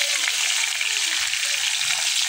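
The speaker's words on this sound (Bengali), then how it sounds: "এখন মাছটা ভাজবো," Koi fish frying in a hot pan of oil, cooked alongside radish greens and eggplant: a steady, dense sizzle that holds close and even throughout, with no voices.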